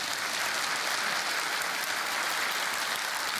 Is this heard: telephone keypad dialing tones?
no